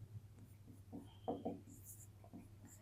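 A pen scratches across paper during a math lesson, with short strokes and small taps in quick irregular bursts, close and quiet over a low steady hum.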